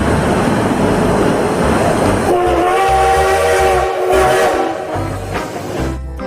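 A toy train whistle gives a close, bright tonal hoot lasting over a second, set against a steady rumbling clatter.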